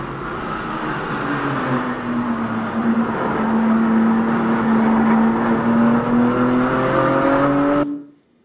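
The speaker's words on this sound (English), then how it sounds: "And then it faded into the regular in-car sound once we got closer." Inside a BMW M3 on a race track, the engine drones loudly with a rising and falling pitch as it accelerates, then cuts off abruptly at the end.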